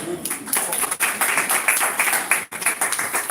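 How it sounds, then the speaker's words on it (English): A crowd at a state senate fundraiser kickoff in Bed-Stuy claps and cheers. The applause comes in dense, lively bursts with a brief dip partway through, and voices are mixed into the noise. "You can give a round of applause."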